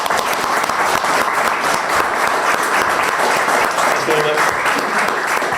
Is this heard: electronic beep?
no